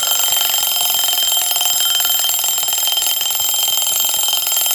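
A loud, continuous electronic alarm rings alone at a steady, rapid pulse, used as a sound effect in a ghost story set among golf carts during a storm.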